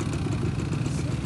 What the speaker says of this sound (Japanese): みんなエンジンかけ始めましたね。